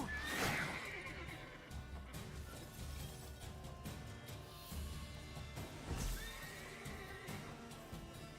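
Roach, the horse in The Witcher 3, whinnies twice in game audio, a loud neigh near the start and another near the end, with faint hoof clopping in between.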